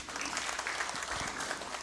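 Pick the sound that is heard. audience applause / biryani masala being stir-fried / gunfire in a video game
audience applause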